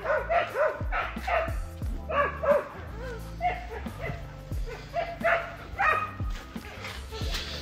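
Dogs at a mansion in Atlanta bark and yip repeatedly in quick, uneven bursts, loud and close, with whimpers between the barks and a voice mixed in.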